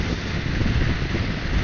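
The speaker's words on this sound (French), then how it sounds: "Là j'ai le vent de face, hein, comme la dernière fois" Steady roaring headwind buffeting the rider on an Orcal Astor 125cc motorbike pushed toward top speed, a loud broadband rush with low rumble, continuous and unbroken throughout.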